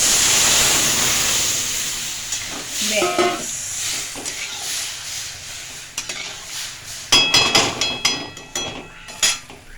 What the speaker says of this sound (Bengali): এবার আমি ডালটাকে দিয়ে দেব